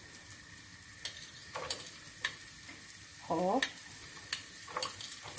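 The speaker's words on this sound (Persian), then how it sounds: "حالا اولین مرحله پیازا رو میریزم، یه تفت کوچیک میدم" Chopped onions sautéing in melted butter in a pot, a soft sizzle with stirring scrapes and a few sharp utensil taps against the pot, heard close with a brief spoken word.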